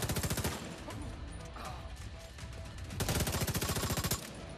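Automatic gunfire in The Division 2 video game, loud sustained bursts of rapid rounds at the start and again near the end, with denser scattered shots filling the middle.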